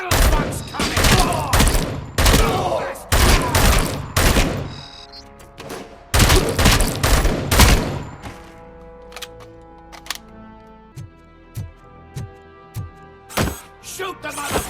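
Gunfire in the video game Robocop: Rogue City, loud rapid bursts of automatic fire in several volleys, then a pause and scattered single shots and impacts, with shouted voices mixed in.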